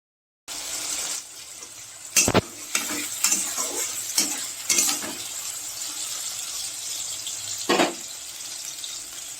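Potatoes frying in a pan give a steady hiss, while water runs and splashes as rice is rinsed nearby, with several sharp clinks and knocks of utensils, close and moderately loud, no talking.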